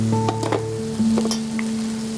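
Blender rinse water splashes into a pan of sizzling spinach and mint leaves, a steady close hiss with soft stirring scrapes and bubbling, no voices.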